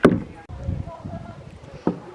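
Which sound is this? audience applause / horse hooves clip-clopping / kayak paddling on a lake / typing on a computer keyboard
kayak paddling on a lake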